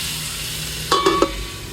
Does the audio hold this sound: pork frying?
yes